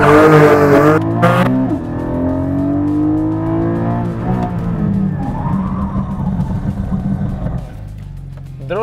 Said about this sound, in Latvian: Drusniņ pa vēlu bremzējām.